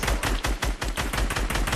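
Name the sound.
gunfire in a first-person shooter video game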